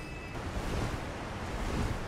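A waterfall in the Elden Ring video game roars as a steady, broad rushing wash of water, close and fairly loud, with no talking over it.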